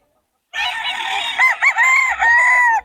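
A Golden Boy Sweater gamecock rooster crows once, a loud, close, drawn-out call that wavers in the middle and then holds steady before cutting off, following a moment of silence.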